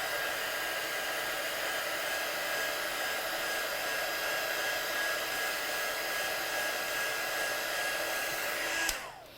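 A hair dryer blows steadily at close range to dry watercolour stamped paper, a constant even whoosh with a faint whine that cuts off abruptly near the end.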